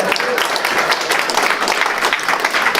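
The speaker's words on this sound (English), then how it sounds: "Can someone clap?" An audience claps at a real estate sales meeting, a dense and steady applause from a crowd that fills the whole clip at close range.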